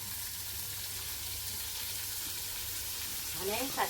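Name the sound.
sesame seeds popping in hot oil with ginger-chili paste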